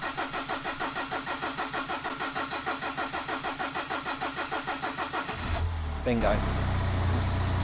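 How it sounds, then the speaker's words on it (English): BMW 318 diesel cranking with rapid rhythmic churning for several seconds after a fuel filter change, then catching and settling into a steady diesel idle; someone speaks briefly as it fires. "So then we've got to start it again now."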